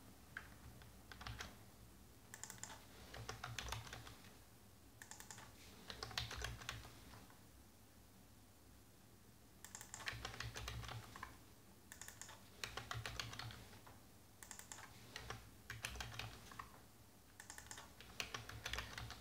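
Typing on a computer keyboard while writing JavaScript code, heard as quiet bursts of rapid keystrokes separated by short pauses, with no voices.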